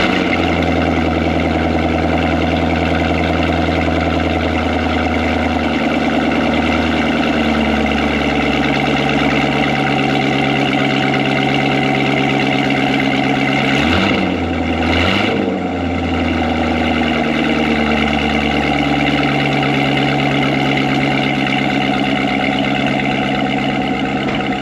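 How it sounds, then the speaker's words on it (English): A C7 Corvette fitted with a new Akrapovic exhaust idles steadily after its first start, a continuous loud, deep burble with a steady rhythm. It holds close and even throughout, with a brief dip midway, and no talking over it. "Before we put the rear clip on, I'm gonna go ahead and give it its first start"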